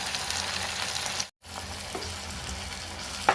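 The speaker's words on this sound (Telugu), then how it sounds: "మంచిగా కొంచెం నూనెలో వేగాలి" Raw bitter gourd pieces fry in hot oil, a steady, close hiss and sizzle running continuously, broken once by a brief gap of silence, with a small clink near the end.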